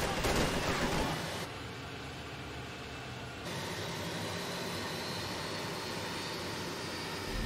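A loud, steady roar of an airplane engine sweeping overhead, broadband and continuous, with a shift in tone partway through.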